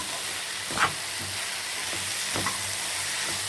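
Prawns with onions stir-fried for prawn chilli sizzle steadily in a hot pan, broken by a few scraping stirs from a spatula. The sound stays close and even, with no talking.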